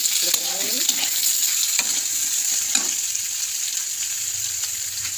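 Onion and tomato paste masala fries in a pan for a fish curry, giving a steady close sizzle with a few scrapes and stirring knocks over it.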